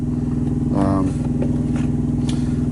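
A truck's auxiliary power unit (Tri-Pak) drones steadily and low throughout, with a brief harsher burst near the start and faint voices in the background.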